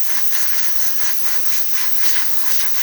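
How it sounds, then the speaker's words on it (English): The steam wand of an ECM Casa V espresso machine, fitted with a new heating element, lets out a strong, steady hiss with a slight pulsing texture, loud and close with nothing else heard. "Really good steam, working perfectly fine."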